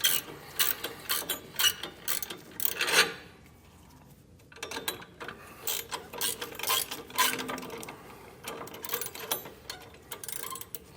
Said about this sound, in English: We're going to snug these 2 bolts up.